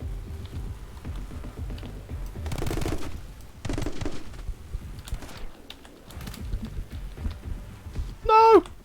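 Pistol gunfire in the action shooter game My Friend Pedro comes in clustered rapid bursts of sharp shots, mixed with game music and effects, with a short rising electronic tone near the end.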